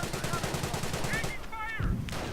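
Rapid gunfire rattles against a Stuart tank in a World War II strategy video game, a dense, steady burst of repeated shots for about two seconds, followed by whistling shell sounds.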